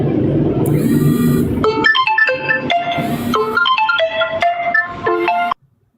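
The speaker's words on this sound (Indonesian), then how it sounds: "Aduh, ada telepon." A phone ringtone for an incoming call plays a loud, bright, electronic melody of quick repeated notes for several seconds, then cuts off abruptly into silence.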